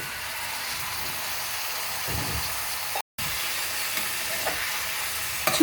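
Chicken pieces dropped into hot oil for a Mangalore-style chicken curry, giving a continuous moderate hiss and sizzle with a few soft bumps, broken by one very brief dropout.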